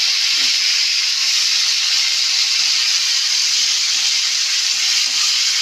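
Potatoes and cauliflower sizzle after going into hot oil tempered with bay leaf and white cumin seeds, a bright continuous hiss with soft crackles and faint stirring knocks underneath.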